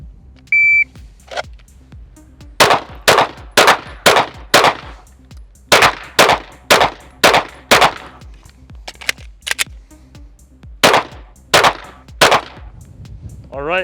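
Pistol shots at shooting range targets, starting after a beep from a shot timer: a string of about thirteen sharp, loud cracks in quick uneven groups with brief gaps between them.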